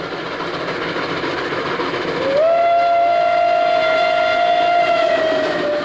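A steam train on the narrow-gauge Zillertalbahn rolling with steady rail noise, then a sustained steam whistle that holds for several seconds, loud and without talk.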